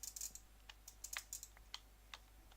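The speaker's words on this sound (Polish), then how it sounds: "ja nie mam klawiatury mechanicznej, tylko mam membranową i właśnie to jest takie dziwne" Typing on a membrane computer keyboard, close and clearly audible: irregular quick clusters of soft, crisp key presses with short pauses, over a low steady hum.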